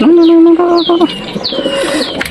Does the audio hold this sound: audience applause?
no